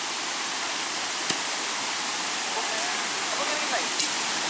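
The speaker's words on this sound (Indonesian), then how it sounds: "lewat sini sungainya banjir besar ini" Flooded Sungai Selis river in Desa Jambeyan rushing in a steady, broadband roar, loud and continuous like a waterfall, with a couple of brief knocks and no voices.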